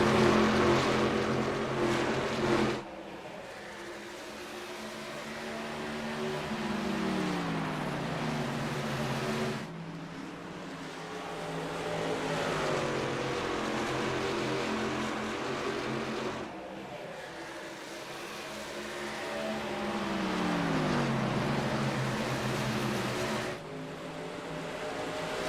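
Racing trucks in a video game at Phoenix Speedway roar past in repeated waves, engines revving high then sliding down in pitch as each pack passes and fades, loud and continuous.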